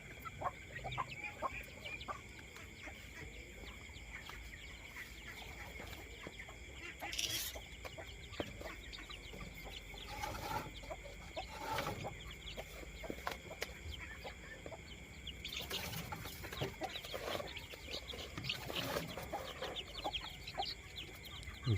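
Chickens and chicks in a home poultry coop, faint scattered clucks and peeps spread throughout, heard at a distance with a person speaking.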